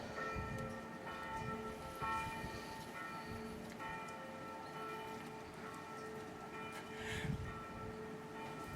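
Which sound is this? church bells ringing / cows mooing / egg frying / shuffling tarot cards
church bells ringing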